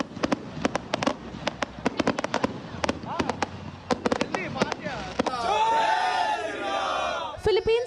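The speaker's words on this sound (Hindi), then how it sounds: "पटाखों की धूम के साथ सिडनी में रह रहे भारतवंशियों ने इस महाउत्सव को मनाया" Firecrackers and fireworks at an Indian diaspora celebration in Sydney: rapid sharp cracks and pops in irregular bursts, followed by a loud crowd cheering and shouting, with more bangs at the end.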